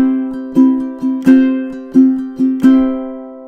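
Slow fingerpicked ukulele phrase from measure six of a song, with about seven plucked notes in an uneven, lilting rhythm over a sustained low tone, played solo, close and clear with no talking.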